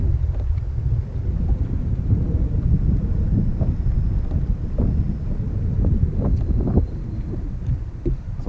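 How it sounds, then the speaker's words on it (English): Strong wind buffeting the microphone beside a lake while fishing from a boat, a constant loud low rumble with gusty surges and faint knocks, no talking. "Would be nice if the wind would settle down just a bit."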